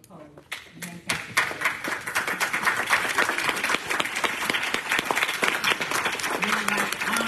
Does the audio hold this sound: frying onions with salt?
no